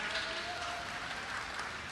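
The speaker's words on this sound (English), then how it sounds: "Can you give a very big clap on Jesus Christ?" A church audience claps for Jesus Christ during a talk on marriage in Goa, giving steady, dense applause with no break that sounds fairly distant.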